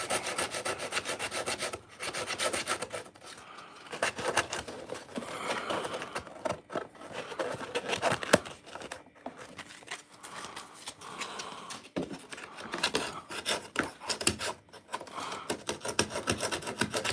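Heavy-grit sandpaper scraping across a door, a continuous rough rasping in uneven back-and-forth strokes with brief pauses, close and loud.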